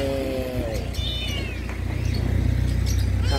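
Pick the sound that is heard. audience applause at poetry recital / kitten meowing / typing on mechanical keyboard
kitten meowing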